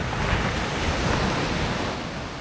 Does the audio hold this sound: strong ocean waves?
yes